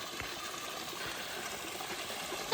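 A mountain stream on a forested Appalachian hiking trail flows steadily nearby, a continuous hissing trickle and splash of water at an even level, with no voices.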